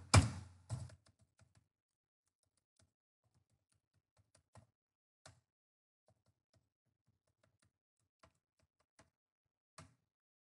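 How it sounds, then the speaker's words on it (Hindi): An email ID being typed on a computer keyboard: a couple of louder thumps at the start, then sparse, faint key taps spaced out over several seconds in a quiet room. "वही ईमेल आईडी डाल देंगे जिस यूजर को, जो ईमेल आईडी वहां डली थी कॉन्फिगर था वही यहां डाल देंगे अनिल"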